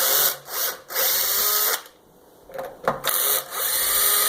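A power drill runs in several short bursts while removing screws from a Kirby Sentria II vacuum cleaner, its loud close whine starting and stopping, with a brief quiet gap and small clicks between runs.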